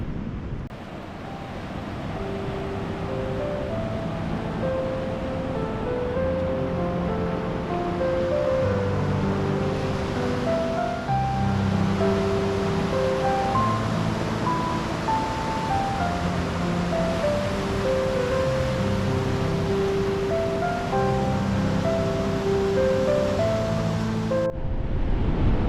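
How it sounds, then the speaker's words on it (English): Steady wind and surf roar sweep along Carter's Beach, a continuous broadband rush that holds even throughout, with a tinkling melody playing over it the whole time. "the wind's blowing the sand just gently along the beach"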